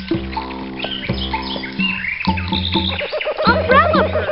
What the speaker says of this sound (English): Umbrella bird.